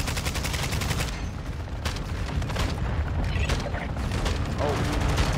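Enemy gunfire in Call of Duty MW3 rattles in rapid, dense bursts of sharp shots, loud and close, with mechanical clatter between volleys.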